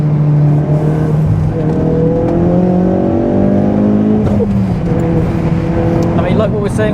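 A tuned 530bhp Ford Focus RS accelerates hard through the gears, its engine note rising and dropping at each shift, loud from inside the car, with people talking over it.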